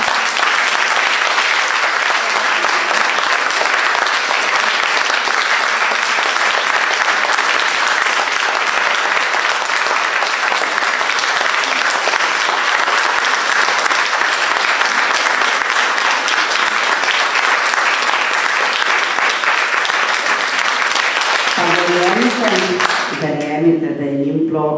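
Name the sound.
audience applause for hockey team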